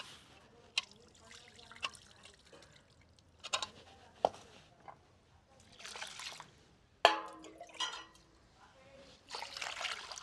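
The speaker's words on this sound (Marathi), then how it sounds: "दोन ते तीन पाण्याने आपण स्वच्छ डाळी धुवून घेणार आहोत" Intermittent splashing, sloshing and dripping as mixed lentils are rinsed in water, in bursts with quiet gaps and faint voices at times.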